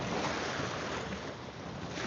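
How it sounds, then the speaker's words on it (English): Lake waves wash steadily onto the Mille Lacs Lake shore in Minnesota, a continuous close broadband rush, mixed with some wind noise and no voices. "I love the sound of the water"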